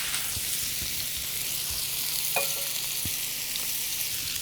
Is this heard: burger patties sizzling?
yes